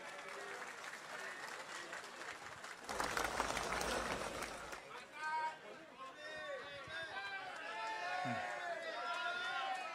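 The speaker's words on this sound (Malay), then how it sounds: "Berikan tepukan kepada mereka." Applause from a political rally audience for a party's slate of election candidates: sustained crowd clapping mixed with cheers and babble, swelling mid-clip, with a voice shouting over it.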